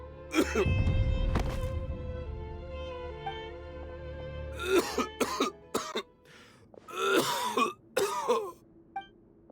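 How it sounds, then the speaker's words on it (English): A man coughs and clears his throat harshly several times, with gravelly, strained fits separated by short pauses. "Why is he coughing so much?"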